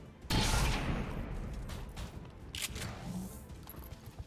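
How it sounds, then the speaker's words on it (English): Soldiers firing weapons in the turn-based game XCOM 2: War of the Chosen produce a sudden loud burst of gunfire followed by a decaying rumble and a second shot midway, with no speech over it. "Yeah, just go ahead and shoot him."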